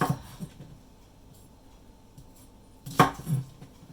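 A kitchen knife trims the ends off scallions on a cutting board, giving a few soft chops near the start and a sharper pair of cuts near the end, with quiet gaps in between.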